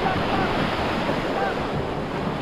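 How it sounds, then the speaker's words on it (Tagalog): Big ocean waves crash and roar as a continuous wash of surf, heard from a boat at night. Heavy wind buffets the microphone throughout, and no distinct voices come through. "malaki ang alon"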